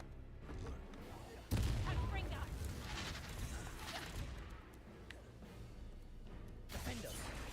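Confringo blasting spell in Hogwarts Legacy, a sudden booming blast that erupts, then a rolling tail of crackling combat noise mixed with in-game voices, fairly faint overall.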